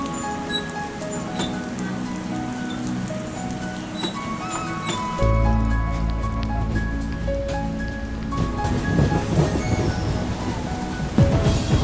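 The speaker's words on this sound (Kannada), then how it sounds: "ಹಿಂಗೆ ಕಂಟಿನ್ಯೂಸ್ ಮಳೆ ಬರ್ತಿರ್ಬೇಕ್ರಿ." Steady heavy rain patters continuously, apparently heard from aboard a superfast express train near Karwar, with a deeper rumble swelling partway through and the downpour carrying on throughout.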